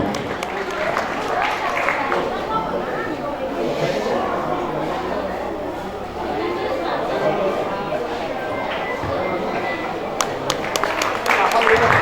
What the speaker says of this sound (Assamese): পুনৰবাৰ জাউৰী হাত চাপৰি বিচাৰিছোঁ দৰ্শকৰ পৰা।